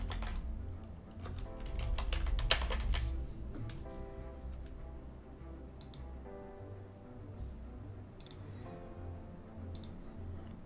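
Typing notepad.exe on a computer keyboard while editing a Windows 11 registry value: bursts of close, crisp key clicks with short pauses, a denser flurry near the start, then steadier spaced taps, no talking.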